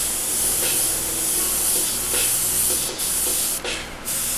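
An airbrush sprays opaque paint in a loud, close, steady hiss that runs almost without a break, cutting out briefly twice near the end.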